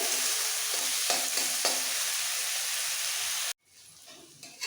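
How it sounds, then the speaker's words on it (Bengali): Onion paste sizzles loudly in a hot pan with oil while being stirred, a continuous frying hiss with a few scraping stirs, then cutting off suddenly near the end. "দুটো পেঁয়াজই একসাথে ভালো করে ভেজে নিতে হবে"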